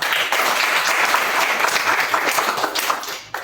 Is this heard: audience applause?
yes